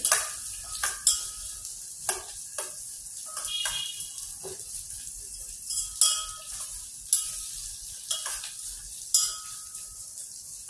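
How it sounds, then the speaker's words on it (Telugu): Onions frying in a pan over medium heat, a steady soft sizzle broken by repeated scraping stirs and light clinks of a spoon against the pan, close and clear with no talking. "ఆనియన్స్ కొంచెం బ్రౌన్ షేడ్ రావాలండి. మరి హై పెట్టి వేయించొద్దండి, మీడియంగా పెట్టండి."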